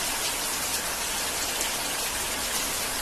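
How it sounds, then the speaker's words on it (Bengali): Heavy rain pours down in a dense, unbroken rush of hiss, loud and close, with no voices. "খুব বৃষ্টি নামলো জোরে, ভালো লাগছে।"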